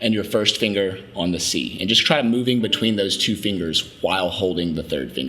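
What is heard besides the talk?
No everyday noise stands out behind the speech.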